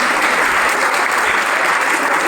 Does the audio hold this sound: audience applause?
yes